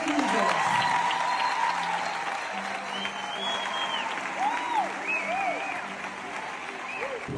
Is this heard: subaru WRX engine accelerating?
no